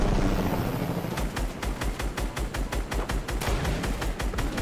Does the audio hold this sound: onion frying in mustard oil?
no